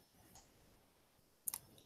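A mouse button clicks on a computer's broadcast control in a quiet room, with a faint click early on and a sharper, closer double click near the end.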